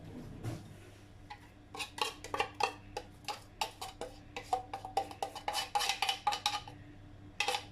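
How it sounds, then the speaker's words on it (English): A spoon scraping condensed milk out of a tin, a run of quick metallic scrapes and clinks close by, growing busier toward the end. "Just scrape everything out."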